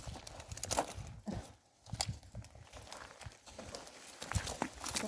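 A donkey walks outdoors on a farm, its hooves clip-clopping in an uneven rhythm close by, with a brief lull midway and rustling movement around the steps.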